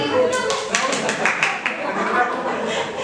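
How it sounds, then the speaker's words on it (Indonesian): Teachers in a training group clap together in a quick run of a few sharp hand claps, close and moderately loud, mixed with chatter and light laughter in the room. "Tepuk tangan dong."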